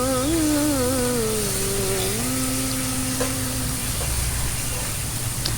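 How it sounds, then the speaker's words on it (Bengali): Onion and tomato frying in a pan with ginger-garlic paste for a bhindi posto dish give a steady, close sizzling hiss throughout, with a faint tonal sound over it early on. "পেঁয়াজ আর টমেটো ভালো করে ভাজা হয়ে গেলে তার মধ্যে অ্যাড করে দিচ্ছি আদা রসুন বাটা"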